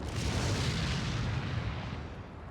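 A shotgun fires in a video game, a single loud, booming blast that rumbles and slowly fades over a couple of seconds.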